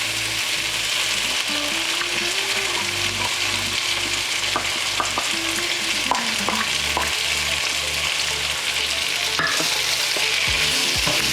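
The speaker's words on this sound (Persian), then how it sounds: "و میذارم که قشنگ این سرخ بشه." Onions frying in oil in a pan for Persian kashk bademjan eggplant dip, a steady close sizzle and crackle running throughout with occasional stirring scrapes, no talking.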